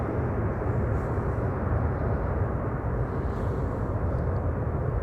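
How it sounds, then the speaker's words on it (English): Air China airliner taking off at Amsterdam Schiphol Airport on a sunny day: a steady, loud, broad jet-engine roar holds throughout, dense and continuous without breaks. "Air China just took off."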